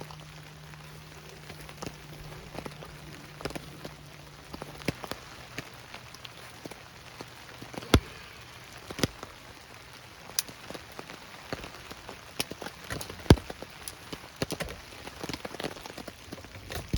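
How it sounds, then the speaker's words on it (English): Rain falling in the mountains during bad weather, a steady patter with scattered louder drops striking nearby surfaces, close and continuous with no talking. "And yeah, it's raining."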